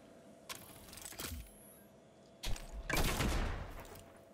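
Weapon fire in the video game Destiny 2 on the Tangled Shore: a short burst of shots, a pause, then a louder, denser volley of rapid gunfire near the end.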